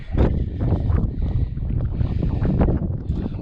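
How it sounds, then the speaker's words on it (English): Strong wind buffets the microphone at the summit of Cannon Mountain up in the clouds, loud, gusting roars that surge and fade with no break. "wind's picking up."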